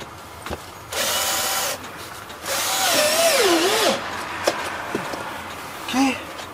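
Power drill driving screws through a panel into a wall reinforcement during solar installation prep, two loud whirring bursts, the second longer with a rising and falling pitch, then short clicks and a brief whine, close up.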